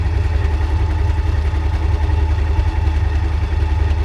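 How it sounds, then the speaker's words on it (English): A sewing machine stitches old denim jeans together, giving a loud, steady, close motor drone with a fast even buzz and no breaks or voices. "all I need to do is sew this together"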